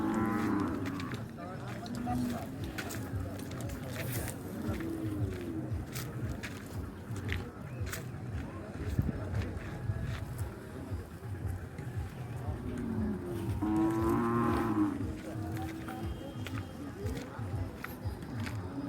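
A cattle calf at the Kharsundi fair moos in drawn-out, low calls, with a clear moo near the middle. A busy outdoor crowd and people talking fill the background.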